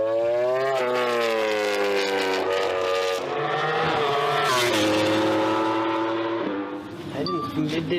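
A Suzuki GSX-RR MotoGP motorcycle ridden on a race track, its engine a loud, close, sustained howl with pitch rising and falling through gear changes, easing off near the end.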